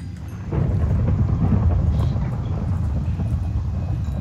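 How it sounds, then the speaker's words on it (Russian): Thunderstorm in the Minecraft video game: a low, rolling rumble of thunder swells and lingers with steady rain-like noise underneath, fairly loud and without talk. "О, гроза, чувак."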